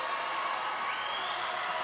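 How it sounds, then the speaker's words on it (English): Teammates cheering and whooping for a swimmer at a swimming championship, a steady, echoing crowd roar in an indoor pool hall, continuous and fairly loud throughout. "You really hear her teammates cheering on for her."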